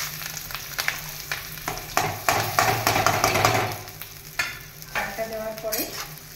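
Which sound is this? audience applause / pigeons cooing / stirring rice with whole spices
stirring rice with whole spices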